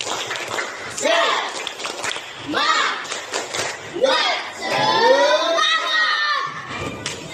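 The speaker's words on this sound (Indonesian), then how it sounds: "Tepuk semangat." A school class performs a rhythmic spirit clap chant, children shouting chanted phrases in bursts with claps and thuds between them, loud and close, the group voices rising and falling in a patterned cadence.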